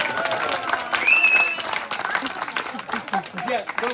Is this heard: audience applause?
yes